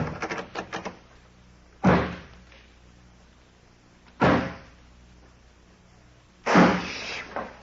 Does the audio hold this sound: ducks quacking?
no